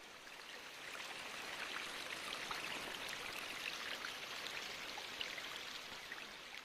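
After heavy rain, rainwater rushes along a stream in a steady, broadband gushing roar. Faint splashes and patters run under the flow, moderately distant and unbroken.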